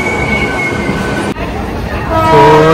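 A suburban electric train arrives at a busy Chennai station, a loud rumbling roar of wheels and carriages close by, with squealing tones rising toward the end as it slows.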